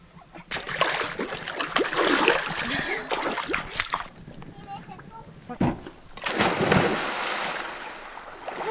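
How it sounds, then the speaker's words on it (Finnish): Water splashes and sloshes as a rowboat is rowed on a lake, uneven bursts of splashing rising and falling in waves, with people chatting nearby. "Nyt tultiin tosiaan soutamaan ja päästiin kaikki tähän potskikyytiin."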